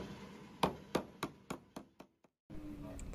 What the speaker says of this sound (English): And closing the paint can.